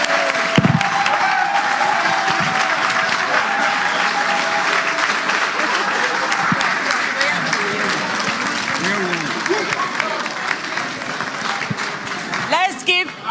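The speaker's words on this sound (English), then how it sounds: "Let's give Honorable a big hand of applause again." Sustained applause from a conference audience at an NPP USA annual delegate gathering fills the room steadily for many seconds, with a brief voice near the end.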